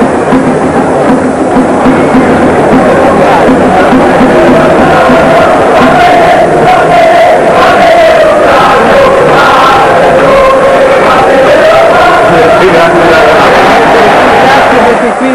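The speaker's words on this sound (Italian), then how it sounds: "voglio far sentire ai tifosi romanisti che cosa hanno cantato in questa occasione" Roma football supporters sing a loud, sustained chant in the stadium during a Coppa Italia cup match against Lucchese, a continuous wall of massed voices with a droning melodic line that holds at full volume throughout.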